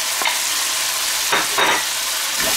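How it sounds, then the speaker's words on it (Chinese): Diced green pepper and scallion stir-fried in a wok, a loud continuous sizzle broken by several brief scraping tosses of the spatula. "翻炒均匀。 然后下入葱和这个青椒丁"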